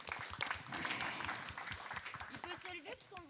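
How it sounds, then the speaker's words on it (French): Audience applause in a French conference hall after a guest is introduced, dense steady clapping from a crowd lasting a few seconds, with some talk mixed in toward the end. "pourquoi pas qu'on l'applaudisse également"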